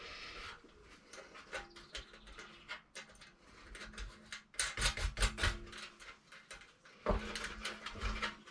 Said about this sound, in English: all you need then is a small screwdriver and something like a pair of pliers just to hold the nut on the other side